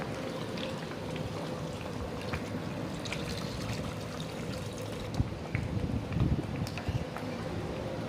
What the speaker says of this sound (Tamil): புளியை ஊற்றிட்டு நல்லா கிளறி விடணும்